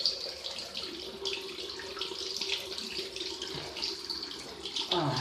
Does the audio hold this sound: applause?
no